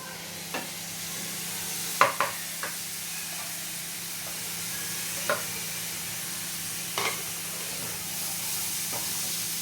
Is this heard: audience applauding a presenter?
no